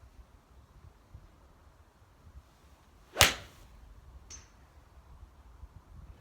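A Benross HTX Compressor golf iron strikes a ball once outdoors, giving a single sharp crisp click that is loud and close, followed by a faint brief tick against light wind.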